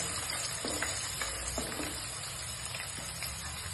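Thinly sliced onions fry in a pan of hot oil for a murrel fish curry, giving a dense, continuous close sizzle with a few light stirring scrapes and no voices.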